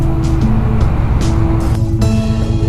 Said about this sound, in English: It has a the classic parallel twin sound.